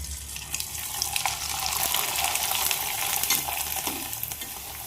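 Homemade disco papdi fries in hot oil, a steady, dense sizzle with fine crackling bubbling throughout, close and continuous with no talking.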